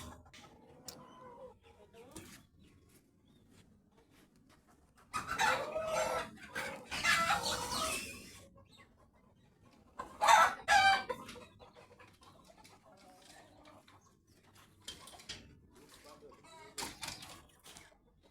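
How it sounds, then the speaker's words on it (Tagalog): Backyard chickens and a rooster: scattered clucks and a couple of bursts of crowing, fairly close, mixed with people talking at low volume between the calls. "At ang mga manok na bagong ligo."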